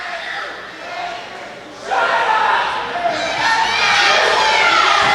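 A large wrestling event crowd cheers and shouts loudly, swelling midway and staying at a sustained roar with a commentator talking over it.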